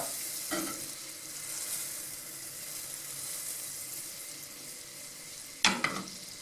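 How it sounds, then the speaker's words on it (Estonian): Butter melts in a pan with a soft, steady sizzle at low volume, followed near the end by a brief clink and stir. "Või sulab meil ära."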